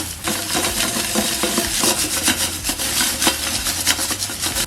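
Gold paydirt from an Arizona hard rock claim is shaken through a quarter-inch classifier, a close, continuous gritty rattling and rasping of gravel and rock against mesh in a fast, rhythmic shake.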